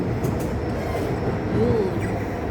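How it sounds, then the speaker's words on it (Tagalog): An MRT metro train passes nearby in Tampines, a steady rumbling rail roar with a brief faint wheel squeal partway through, continuous and fairly loud throughout. "MRT yan guys. MRT train."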